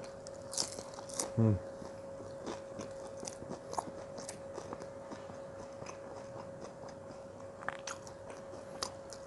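Crispy fried cireng, a tapioca and wheat flour snack, crunched between the teeth with a loud bite near the start, then softer chewing crunches scattered through a quiet room with a steady faint hum.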